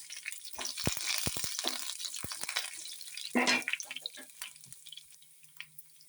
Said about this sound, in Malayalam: ഇനി നമുക്കിതിലേക്ക് ഈ കറിവേപ്പിലയും പച്ചമുളകും ഇട്ട് കൊടുക്കും.